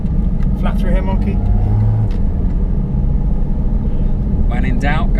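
A Porsche GT4 RS engine roars steadily at speed, a deep constant rumble with a rushing intake whoosh of air drawn in through the sides, while someone talks over it.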